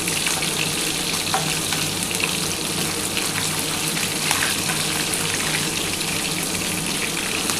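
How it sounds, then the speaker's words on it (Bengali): Pieces of catla fish fry crisp in hot oil, sizzling loudly and continuously close to the pan with a steady crackling hiss and no talk. "এর জন্য একটু কড়া করেই মাছটা ভাজতে হবে।"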